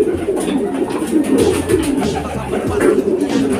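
Pigeons coo steadily with low, throaty, overlapping calls close by, a continuous soft burbling from several breeding birds kept for racing.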